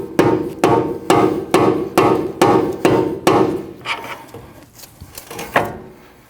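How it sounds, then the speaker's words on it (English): A rubber mallet strikes the steering knuckle of a Nissan NV2500 front suspension to free the upper ball joint. About eight sharp, evenly spaced taps ring out close and loud, followed by a few softer, irregular knocks. "tap your knuckle right here with a rubber mallet"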